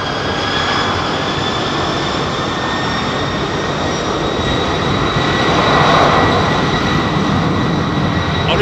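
An airliner takes off at London Heathrow, a loud, sustained jet roar with a whining high engine tone, swelling slightly as it passes close by.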